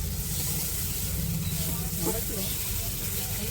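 Spice paste for ghugni fries in a pan with a steady, dense sizzling hiss, close and continuous, while a voice talks lightly underneath.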